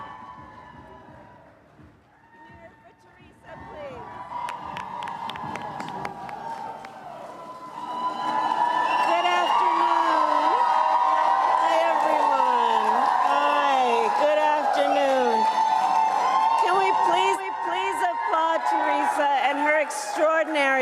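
Rally crowd in Douglas, Arizona cheering loudly for Vice President Kamala Harris, a dense, sustained roar with whoops that swells sharply midway and stays loud to the end, with a voice faintly audible early on.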